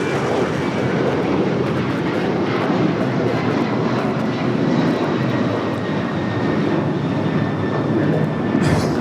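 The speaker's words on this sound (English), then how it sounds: "That is United Airlines 1635 taking off to Washington Dulles on the 737-900ER" A United Airlines Boeing 737-900ER roars down the runway at Los Angeles airport on its takeoff roll, a loud, steady broadband jet rumble with a faint whine layered on top, continuous throughout.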